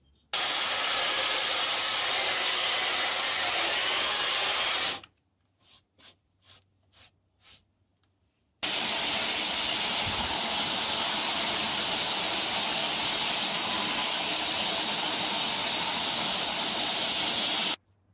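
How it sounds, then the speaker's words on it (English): A Workmaster Gator counter-rotating deck sanding machine runs with a loud, broad, steady roar, cuts out for a few seconds of faint intermittent knocks, then starts again and roars continuously to the end. "The Workmaster Gator is the perfect stair and crevice tool. Just like our RASP, the Gator uses counter-rotating heads"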